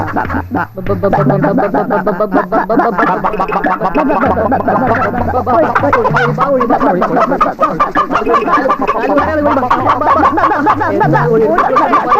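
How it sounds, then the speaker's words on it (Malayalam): Chickens cluck continuously and loudly up close, a busy overlapping stream of clucks and short calls with no pauses or talk. "നല്ലൊരു കോഴിയെ പിടിച്ചങ്ങ് അറക്ക"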